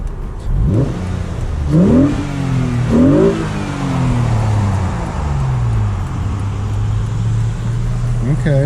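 A 2000 Nissan Maxima engine with a cold air intake revs sharply three times, the pitch rising and falling with each rev, then settles into a steady low idle.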